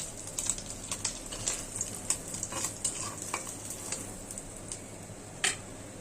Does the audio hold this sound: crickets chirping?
no